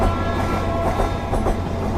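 Steam-style passenger train in the UK pulling away and running on its rails, a loud steady rumble with rhythmic clickety-clack and carriage rattle heard from on board.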